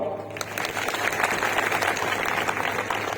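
Audience applause at a youth motivational talk on goals and success: a brief quiet start, then sustained, even clapping from many hands at moderate distance for about three seconds.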